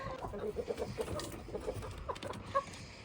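Chickens cluck in short, scattered bursts at a moderate distance, with a few higher calls mixed in over a quiet background.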